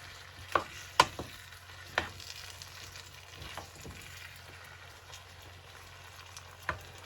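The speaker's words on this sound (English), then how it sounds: "better leave it on heat when it stops sizzling." Meatloaf sizzles steadily in a frying pan, a soft continuous crackle broken by a few sharp pops and clinks of utensils.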